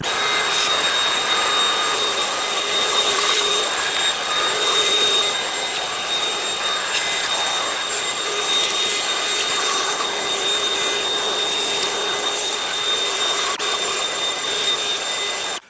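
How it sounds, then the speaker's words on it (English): Steady, loud vacuum cleaner drone hoovering dust and filth off the chassis of an old Bush television set in a workshop, running continuously without a break and without talk. "let's just hoover it up"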